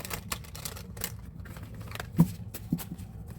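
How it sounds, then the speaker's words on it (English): A deck of tarot cards being shuffled, giving soft papery riffles and a few sharper slaps and taps, fairly quiet and close, with no talking. "Then one more good shuffle."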